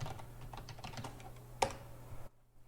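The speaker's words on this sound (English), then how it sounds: "so I will type in a new password" Someone types a new Grafana password on a computer keyboard. A quick run of soft, close keystrokes ends in one louder key press, then falls silent.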